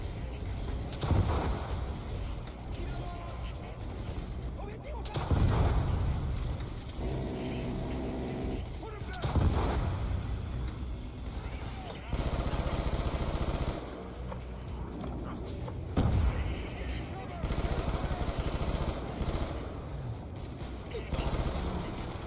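Rifle gunfire rattles through a Black Ops 2 match set in Los Angeles, with repeated bursts and single cracks spread across the stretch, some heavy booms among them, mixed with game noise.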